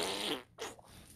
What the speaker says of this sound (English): He farts almost in 1 second.